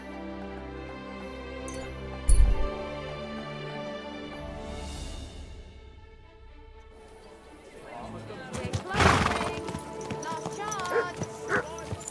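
Horse hooves clop and a horse neighs in the medieval video game Kingdom Come Deliverance 2, with a sharp thud, a rising whinny and clattering movement over game ambience.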